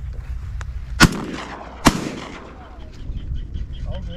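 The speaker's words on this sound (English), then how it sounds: "Shoot him, Chris." Two loud shotgun blasts about a second apart during a Louisiana salt marsh duck hunt, sharp close reports with brief echoing tails over wind and faint background voices.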